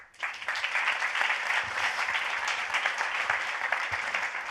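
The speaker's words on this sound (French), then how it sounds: "je pense que vous pouvez vous applaudir" Sustained audience applause at a corporate talk on the energy crisis, dense steady clapping from a crowd that starts abruptly and holds at full strength throughout, with no talking over it.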